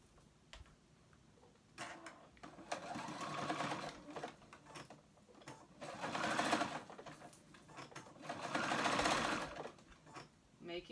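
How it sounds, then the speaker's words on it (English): A home sewing machine runs a stretch stitch through knit fabric for a ruched tee, whirring in three or four rising bursts separated by brief pauses, close and fairly quiet. "sew that with a stretch stitch on my sewing machine"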